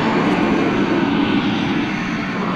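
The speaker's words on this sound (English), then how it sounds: "And again, I'm sorry about the loud noise from that motorcycle." A loud motorcycle passing outside produces a steady, heavy engine roar that stays dense and constant for a couple of seconds, with no talking over it.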